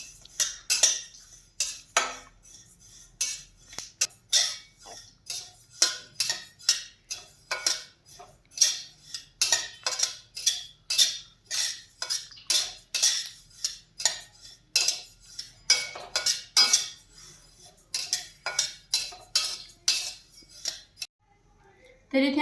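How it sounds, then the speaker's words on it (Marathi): A spatula scraping and clinking against a kadhai while sesame seeds are stirred and roasted over medium heat, a steady run of sharp metallic strokes repeated throughout, close and fairly quiet with no talk. "याच कढईमध्ये आपल्याला तीळही एकसारखे हलवत छान असे भाजून घ्यायचे आहेत।"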